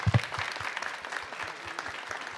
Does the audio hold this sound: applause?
yes